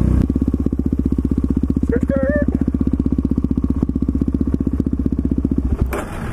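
A supermoto motorcycle engine idles with a steady, rapid low pulsing throughout, close and loud, with a brief squeaky chirp partway through and the engine dropping off near the end.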